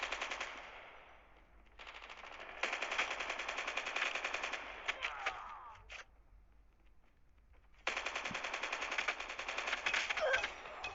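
Machine-gun fire in the mobile shooter game Call of Duty Mobile rattles in long sustained bursts with a brief pause between them, crisp, rapid, fairly quiet game audio.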